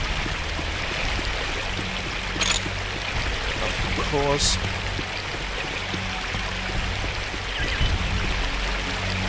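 Steady rushing and trickling water at the Pool of Thunder inside the Chizra temple in the video game Unreal, running continuously in the background while a voice speaks briefly over it.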